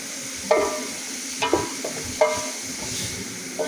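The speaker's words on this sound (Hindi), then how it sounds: "30 सेकेंड का गैप देना है फ्राइड जो वेजिटेबल्स हैं उनको फ्राई करते हुए" Carrots and capsicum stir-fry for chicken fried rice under a steady sizzle, broken by three sharp clanks of a spatula against the pan about a second apart, close and fairly loud, with no voices.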